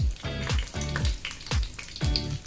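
Cumin seeds, dried red chilies and bay leaves frying in hot oil, a steady sizzle broken by repeated scraping strokes of a spoon, roughly every half second, with no talk over it.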